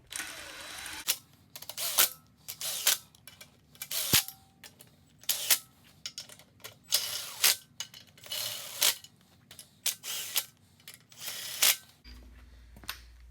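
Ratchet snugging down bolts on a Honda B20B non-VTEC engine during a CR-V rebuild: a long series of quick, crisp clicking bursts at a fairly steady pace, close and fairly quiet, with short gaps between strokes.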